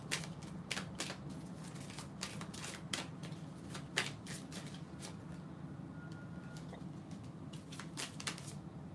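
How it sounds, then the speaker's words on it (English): A deck of oracle cards shuffled steadily by hand, giving a soft, continuous run of quick papery flicks and taps over a faint background hum, recorded close and quietly, with no voices. "I'm going to use this deck right here, and I'm going to shuffle to get some more messages."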